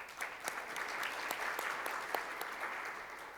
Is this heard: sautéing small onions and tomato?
no